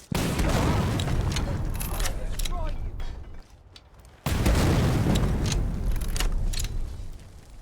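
Bomb blasts in modded Skyrim combat, loud booming bursts with crackling debris, dropping to a brief quieter lull before another heavy explosion erupts and rumbles on.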